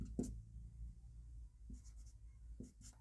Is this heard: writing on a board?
yes